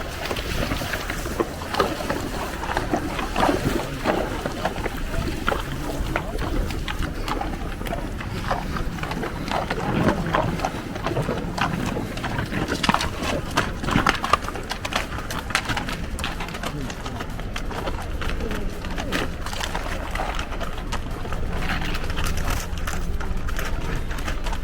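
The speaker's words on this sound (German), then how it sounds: "Deswegen sitze ich auf einem Pferd und werde hier durchgeführt." Water splashes and churns steadily as a horse wades through it in Jordan, with birds cooing in the background and occasional faint voices.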